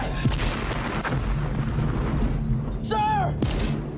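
A tank cannon fires during a war film battle scene, heavy low booms and a constant rumble of combat, with a brief shouted voice rising over the noise near the end.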